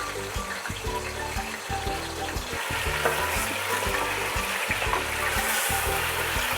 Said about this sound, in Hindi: थोड़ी हम इसको फ्राई करेंगे ताकि चिकन का पानी बिल्कुल खुश्क हो जाए।